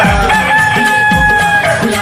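A rooster crows over sustained devotional music, its rising calls repeating several times in quick succession and mixed loudly with the tune.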